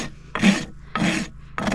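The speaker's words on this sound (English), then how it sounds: "I'm just going to use my rasp." A farrier's rasp files a horse's hoof with three loud, close strokes in a steady back-and-forth rhythm, each a coarse scraping rush separated by short pauses.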